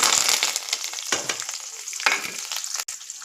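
Onions and cashews fry in hot oil in a pan while making vermicelli bath, a close crackling sizzle with several scraping stirs sweeping through and a sharp clink near the end.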